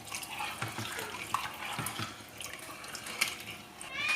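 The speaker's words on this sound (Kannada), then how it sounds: "ಇತ್ತೆ ಈ ಟೈಮ್ ನಮ್ಮ ಆರಿ ಪಾಡ್ಗ ಬಾಸ್ಮತಿ ಮತ್ತೆ 1/4 ಕಪ್ಪು ನೀರು ಪಾಡ್ಗ." Water pours from a cup into basmati rice in a pot for biryani, a light trickling and splashing at close range that continues with small drips and clinks.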